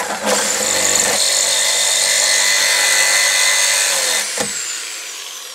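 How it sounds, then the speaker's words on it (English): A jigsaw cuts a hole in the metal body of a Mk2 Ford Escort Estate, a loud, close, steady buzzing whine that holds for about four seconds before the blade stops abruptly. "we've got a jigsaw in the hole"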